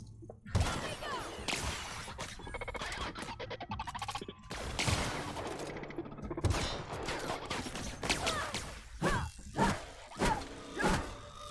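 Gunfire in the video game The Outer Worlds: a rapid series of sharp shots and impacts, bursts clustered and overlapping, then several spaced loud blasts toward the end, with no talk.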